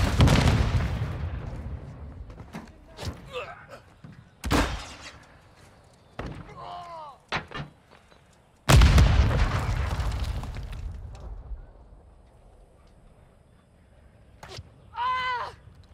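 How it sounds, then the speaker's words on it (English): A stun grenade in a video game bursts with sharp, loud bangs and thuds, one heavy blast standing out, while short shouted voice calls come through between hits. "Throwing grenade! Throwing a stun grenade!"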